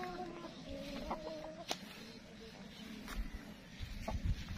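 Rhode Island Red hens cluck and murmur at moderate distance on a small farm, with a few sharp clicks and rustles, over a low background hum.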